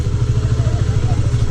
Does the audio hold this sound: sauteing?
no